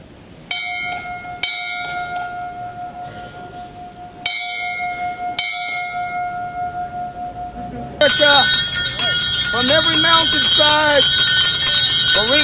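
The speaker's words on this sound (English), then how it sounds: "the bells today, Dr. Martin Luther King 50 years ago at this very moment" Bells ringing to mark the fiftieth anniversary of Dr. Martin Luther King's speech, clear struck tones with long ringing decays at irregular intervals, then a denser, louder peal of many bells joined by busy clatter.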